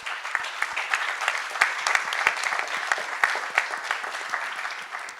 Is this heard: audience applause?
yes